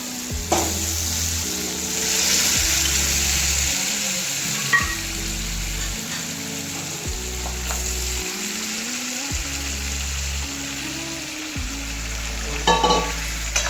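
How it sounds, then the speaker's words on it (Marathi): Goat trotters sautéed and stirred in a pan for a Marathi-style curry, sizzling steadily up close with intermittent scraping stir strokes and a few utensil clinks, no talking. "हे चांगलं परतू याच्यामध्ये."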